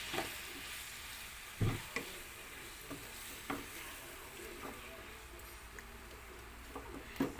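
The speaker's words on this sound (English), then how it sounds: "So on this, we can add our fish. So we have to cook our fish with" Fish cooking in a pan of oil and butter gives a faint, steady sizzle, broken by a few soft clicks and scrapes from stirring, heard close up with no voices.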